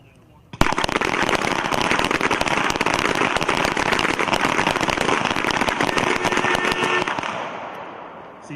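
Rapid pistol shots from a team pistol match crack out at an outdoor range, a dense continuous volley of overlapping loud reports lasting about seven seconds before tapering off, with some talk underneath.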